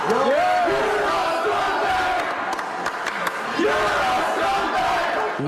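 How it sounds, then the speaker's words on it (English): A crowd of current and former Seabreeze High School students chants loudly and continuously, rhythmic shouted phrases rising and falling with voices layered together at close range. "as they're chanting, you're a scumbag"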